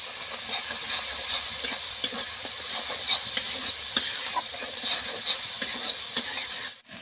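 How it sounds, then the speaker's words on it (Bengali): Spice paste with turmeric powder frying in a pan for pickle, a steady broadband sizzle and hiss with light stirring scrapes throughout, close and moderately loud, no talking. "মশলাটাকে আমি ভালো করে ভেজে নেব"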